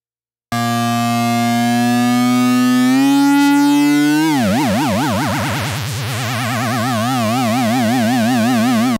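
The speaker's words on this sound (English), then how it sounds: "switching from noise to LFO, we can use a dedicated LFO to modulate our pitch." A Behringer Model D synthesizer, a Minimoog-style analog, holds a bright buzzy tone that glides upward, then an LFO modulates its pitch into a fast, wide warbling wobble that slows and shifts for several seconds, loud and alone.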